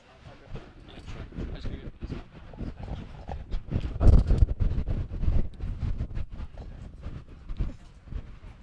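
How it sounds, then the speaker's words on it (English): Wind gusting across an outdoor croquet lawn during a tournament, buffeting the microphone in uneven low rumbling bursts that swell and fade, loudest near the middle. "It's quite windy."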